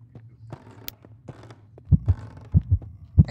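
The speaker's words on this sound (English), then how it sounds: "I hear a heartbeat." A heartbeat thumps in the ghost-hunting video game Ghost Exile, starting after a few quiet scattered noises and then pulsing in loud, low double beats that repeat about every two-thirds of a second.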